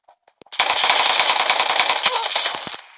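Rapid automatic gunfire from an online shooter game, a few scattered shots first and then a dense, loud burst of continuous machine-gun fire that runs for over two seconds before tapering off.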